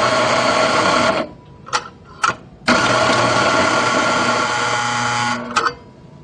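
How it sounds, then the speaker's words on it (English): A coffee grinder runs loud and steady in two long bursts, separated by a few short on-off pulses as the remaining coffee is cleared, with no voices. "Begin by removing any remaining coffee from the grinder."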